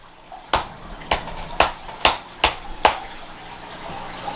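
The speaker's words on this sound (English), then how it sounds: "It sounds an awful lot like splashing water." Water from a leaking indoor pond splashes in a steady rhythm, six sharp, close slaps roughly half a second apart over quiet background.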